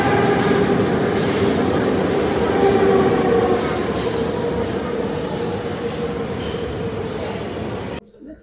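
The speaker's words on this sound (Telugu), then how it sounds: "సో మా రూమ్ నుంచి మెట్రో తీసుకున్నాం, మళ్ళీ ఇంకో చేంజ్ అవుతున్నాము." Paris metro train in motion: a loud, continuous rumble of rails from inside the carriage, with a faint steady wheel whine, ending abruptly near the close.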